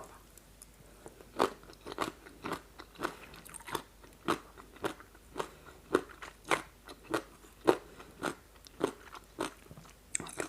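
Frozen papaya salad eaten with salmon noodles, shrimp and radish, producing sharp crisp crunching bites in a steady chewing rhythm, about a dozen distinct crunches, close and fairly quiet, with no talking.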